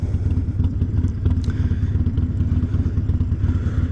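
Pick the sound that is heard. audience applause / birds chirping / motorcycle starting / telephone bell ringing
motorcycle starting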